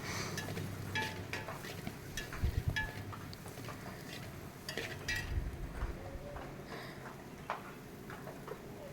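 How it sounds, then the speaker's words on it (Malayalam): Onions and grated coconut stirred in a frying pan for beef thoran, with a utensil ticking and scraping against the pan in an irregular rhythm over a low steady sizzle. "നമുക്ക് ഉള്ളി വാട്ടി വാട്ടി എടുക്കാം കേട്ടോ നല്ലോണം വാട്ടിയെടുക്കാം അതിനകത്തേക്ക് അരി ചിരണ്ടി വെച്ച തേങ്ങയും കൂടി ഇട്ട് കൊടുക്കുകയാണ്"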